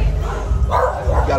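A bully breed dog barks a few times in a kennel, mid-distance yips and woofs mixed with people talking nearby.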